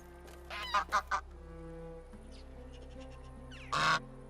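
Geese in a goose house in the Medieval Dynasty video game honk in a quick burst of three or four calls, then again in one loud honk near the end, over a steady low ambient hum.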